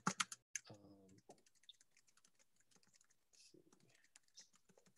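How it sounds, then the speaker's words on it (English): Faint keyboard typing in short irregular bursts of soft clicks, with someone talking quietly in between during a lecture on historic properties. "so I'm gonna type it into the chat now"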